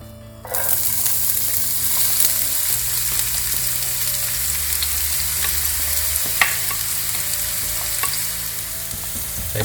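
Two finely chopped medium onions sizzle steadily as they fry in melted fat in a pan, stirred now and then for nearly ten seconds, the spoon's scrapes and knocks sounding over a constant close crackle with no talking.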